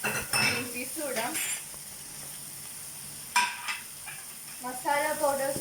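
Sausage noodles with green peas are stirred in a pan, a spoon scraping and clinking against the metal over a soft sizzle in several quick bursts, with brief gaps between.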